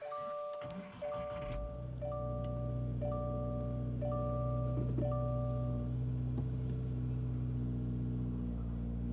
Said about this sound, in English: All right, the 4-cylinder is on. Let's go listen to the idle from outside the car now.